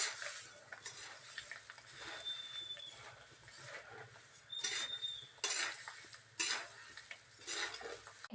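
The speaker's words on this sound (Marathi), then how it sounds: "आता हे सर्व मिक्स करून घ्यायचं आहे" Bhadang puffed rice snack being mixed with boondi and chivda in a bowl, soft rustling and stirring with several louder clinks and scrapes of a utensil against the dish, no talk.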